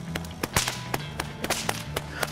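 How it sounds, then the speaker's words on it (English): A leather whip cracks in a helicopter trick, a rapid series of about a dozen sharp, loud snaps in an uneven rhythm over a low steady hum. "a whip maker who whip cracks as well"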